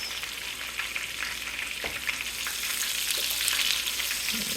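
Chicken fried steak fries in hot oil in a pan with a steady, loud, close sizzle and crackle that swells slightly toward the end, and an occasional clunk of a utensil.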